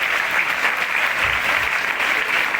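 School staff and children clap steadily together at an Independence Day cultural program in a government senior secondary school, a dense, even wash of applause filling the whole moment without letup.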